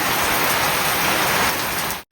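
Heavy monsoon rain pouring down in a village, a dense, loud, steady hiss of drops on surfaces filling the whole moment before cutting off abruptly.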